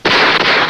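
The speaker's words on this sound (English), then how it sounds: "They're firing on us from the second floor." Gunfire from the second floor of a building during a police standoff, captured on 16mm film: a loud, close burst of harsh shots filling most of a short moment with no talk over it.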